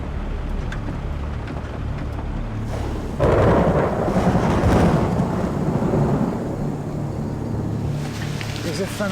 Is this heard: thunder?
yes